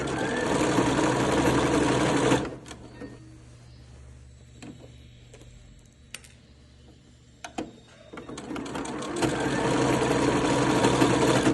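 A sewing machine stitches a ruffled festa junina skirt, its loud rapid whirring running at the start, pausing for a stretch of quiet handling noises, then starting up again at the end.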